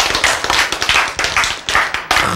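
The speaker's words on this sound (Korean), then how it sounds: "박수 한번 쳐야지." A church congregation claps in a quick, uneven rhythm, a close, loud burst of overlapping hand claps pulsing in waves for a couple of seconds without talk.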